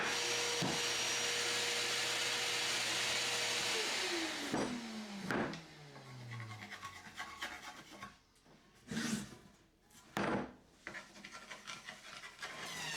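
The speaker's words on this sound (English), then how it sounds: "I run the boards in the joiner, table saw and planer." A jointer, table saw and planer machining wooden boards for a bench: a loud, steady machine roar that spins down after a few seconds and gives way to intermittent rasping and rubbing bursts.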